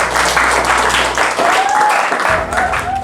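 A classroom group claps for the fourth group after their presentation, a dense burst of many hands that runs on steadily for a few seconds, with a faint voice briefly audible beneath it.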